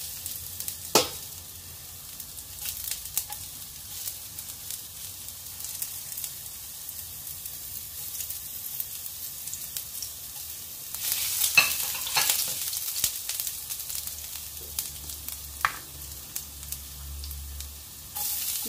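Ginger sautéing in hot oil at the start of a mussel dish, a steady low sizzle with occasional stirring scrapes and a brief louder burst of frying midway, no talk.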